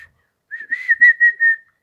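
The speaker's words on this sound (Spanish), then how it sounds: "Silbar" A person whistles a short wavering tone that starts after a brief silence, holds with a few pulsing swells, then fades out, clear and close with no other sound.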